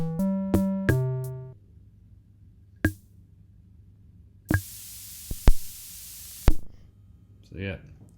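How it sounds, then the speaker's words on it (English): Broadband white-noise hiss from a circuit-bent Casio MT41 keyboard, a loud sustained wash lasting about two seconds after a few earlier tones and clicks, then cutting off. "Get some white noise."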